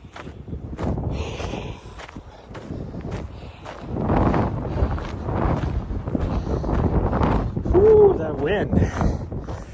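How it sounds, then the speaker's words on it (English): Warm Chinook wind gusting across a snowy mountain trail during a morning run, a steady loud buffeting roar against the microphone with surges, while a person talks over it. "You can tell it's definitely a Chinook wind, which means it's warming up"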